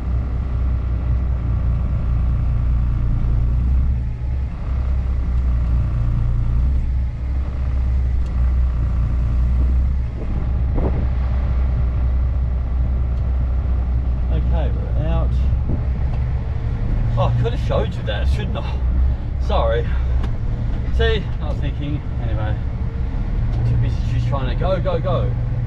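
A truck with a trailer drives out slowly, its low engine rumble droning steadily throughout while people talk over it.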